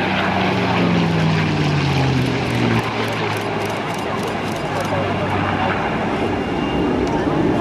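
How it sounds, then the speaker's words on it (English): A P-51 Mustang propeller fighter makes a low pass at an air show, its engine roaring loudly with a falling pitch as it sweeps by, fading into a steady drone under an announcer's voice. "here comes the Mustang in a low pass"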